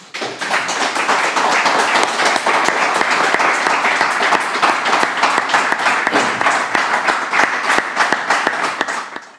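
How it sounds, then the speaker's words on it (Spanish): An audience applauds to welcome a speaker, with sustained, dense clapping from a full room that holds steady throughout and tapers off at the very end. "de verdad se merece un enorme aplauso."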